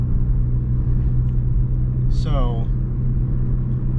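Steady engine rumble and road noise from inside a moving car as it drives away from a garage, a loud continuous drone with a brief spoken word over it.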